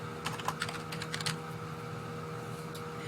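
Quick keystrokes on a computer keyboard entering a search phrase for exercise equipment, a brisk burst of clicks over a steady background hum, then the typing stops.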